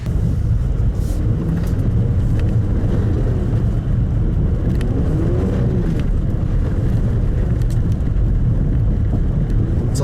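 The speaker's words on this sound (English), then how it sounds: "It's a little hard to do donuts in an all-wheel drive car" An all-wheel drive 2018 Buick Regal TourX spinning donuts in snow on a snowy Oregon mountain road, with a loud, steady engine rumble under heavy wind buffeting, sustained throughout.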